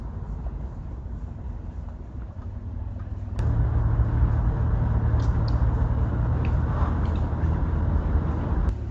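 Steady engine and road drone from inside a first-generation Dodge Dakota pickup on the drive home, which grows a little louder partway through and then holds level; no talking.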